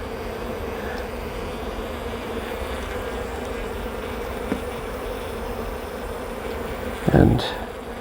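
Honey bees swarm around a beehive, agitated near a caged queen, making a dense, steady close buzz throughout with a brief louder swell near the end.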